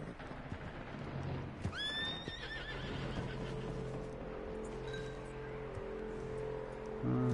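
A horse in the Red Dead Redemption 2 video game gives a clear, fairly loud whinny, with hoof clip-clop and game ambience around it and a faint second neigh later.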